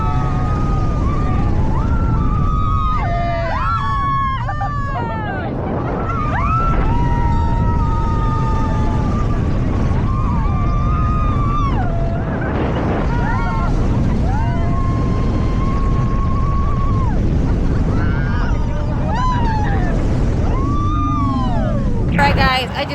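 Riding the Xcelerator roller coaster: a loud, steady roar of wind and rumbling track with rising and falling screams from riders throughout.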